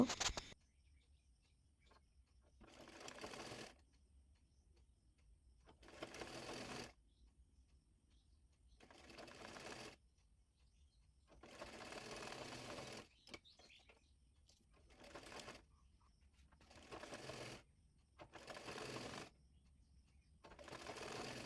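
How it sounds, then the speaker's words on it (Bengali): A sewing machine stitches a hijab cap in about eight separate motor bursts of a second or two each, with quiet pauses between runs and no talking. "প্রথমে ক্যাপ সেলাই করে নেব ও মাঝখানে চিহ্ন দেওয়া আছে আর এই ক্যাপের চিহ্ন মিল করে এ মাঝখান থেকে সেলাই করে নেব"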